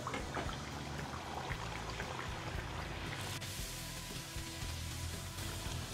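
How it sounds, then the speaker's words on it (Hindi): Puri dough dropped into oil heated until lightly smoking, giving a steady, loud frying hiss with a fuller crackling burst partway through, and no talking. "तो अब हम पूरी को डाल देंगे"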